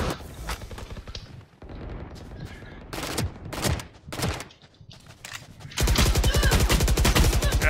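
Rapid gunfire in a first-person shooter, a 30-round weapon firing in quick bursts of sharp cracks, then one long sustained burst at the end, loud and close.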